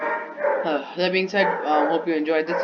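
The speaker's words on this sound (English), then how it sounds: "you'll have to excuse my dog. Seems she wants to join the lesson as well" A pet dog barks and yips repeatedly right beside a person who keeps talking over her during a music theory lesson.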